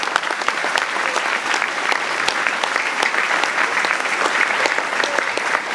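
An audience applauds at a town New Year's greetings ceremony in Athis-Mons, a dense, steady wash of clapping from a crowd indoors that holds evenly throughout with individual sharp claps standing out.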